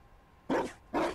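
A dog in the video game Dragon Age Inquisition Trespasser gives two short, close barks in quick succession over a quiet background.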